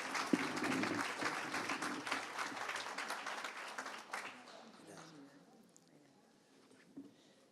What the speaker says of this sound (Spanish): les pido un muy fuerte aplauso para el doctor Juan Carlos Coral